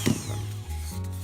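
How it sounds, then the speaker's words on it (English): A Dremel rotary tool sanding a small craft piece, a brief close buzzing hum with a steady motor tone that dips and wavers as the bit bites, with no talking. "you really want to hold it tight because the Dremel will snag onto it"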